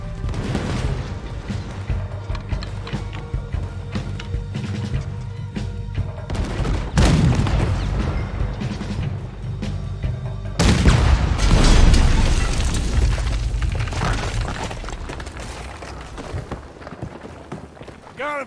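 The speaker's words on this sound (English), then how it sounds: "There's another cannon up ahead on our left." Heavy cannon fire booms during a ship battle in Red Dead Redemption 2, with loud blasts around the seven- and eleven-second marks over continuous rumbling gunfire and action noise, and voices occasionally mixed in.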